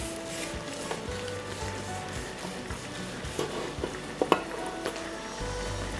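Smoked bone-in beef prime rib being carved, with a steady sizzling, rubbing wash and a few sharp knife or plate clinks near the end, close and alone.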